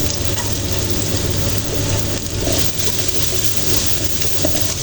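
Garlic fries in oil alongside onion and ginger for escabeche, a loud steady sizzle close by with faint stirring and no talk.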